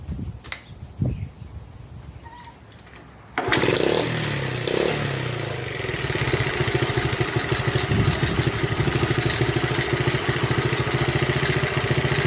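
A 1971 Honda CT70 motorcycle, fitted with a makeshift throttle cable, coughs through a few start attempts and then catches, settling into a loud, steady close-up idle with a fast, even pulse that runs to the end.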